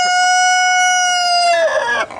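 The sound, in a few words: male Chinese crested goose calling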